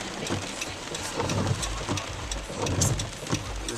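Heavy rain pours steadily outdoors in a constant dense wash with a few louder gusts, alongside a low rumbling that could be passing traffic.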